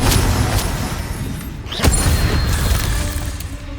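A spell detonates in the Hogwarts Legacy video game, a blunt boom with creaking, mechanical rumble layered over a constant loud game soundscape.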